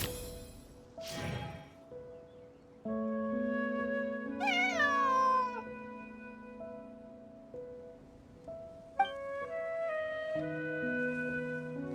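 A cat meows in the Genshin Impact game during a Hangout Event, with brief cries heard over gentle game background music and a wave-like swish near the start.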